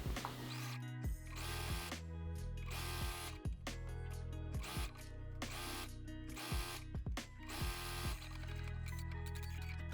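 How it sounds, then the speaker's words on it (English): An overlock serger stitches a sleeve into a knit bodycon dress, a steady close mechanical whir with a low hum and quick rhythmic clatter, slowing and restarting in brief stops throughout. "put it in and overlock it"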